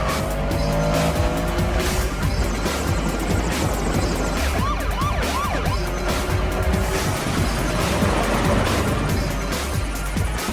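Loud, continuous roar of cars racing away from pursuing police in a movie car chase, with engines revving, tires squealing through turns and faint siren-like wails in the mix.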